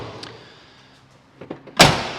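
A shop door opens as a customer walks in, heard as a couple of small knocks and rattles followed by a loud, sharp clunk from the door, fairly close and with no one speaking.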